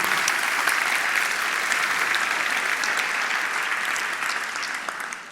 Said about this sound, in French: je vais les applaudir